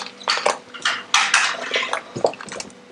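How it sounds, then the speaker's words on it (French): Carrots and potatoes dropped into a pot of boiling water for homemade baby food, giving a few clattering splashes and knocks against the pot, close and moderately loud, in irregular bursts. "Maintenant que l'eau bout, y ajouter les carottes et les pommes de terre."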